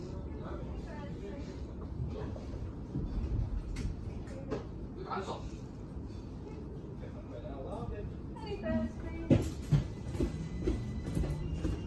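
A Stagecoach Sheffield tram-train departing Tinsley for Parkgate rumbles and clatters along the rails with a low, steady drone, with occasional squeals and clunks while people talk over it.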